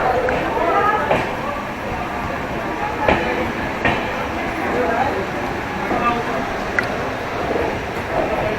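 The Gorakhpur Express passenger train rolls along the tracks after leaving Mau Junction, with a loud steady rumble inside the coach and periodic clickety-clack wheel knocks over rail joints, while voices can be heard.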